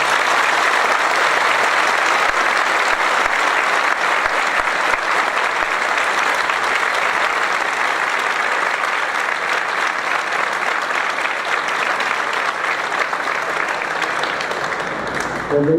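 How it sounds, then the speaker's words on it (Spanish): Sustained, loud applause from a large conference audience at ESPOL, a dense wash of clapping that carries on evenly for about sixteen seconds before tapering slightly. "Yo quiero al auditorio que demos un fuerte aplauso a John."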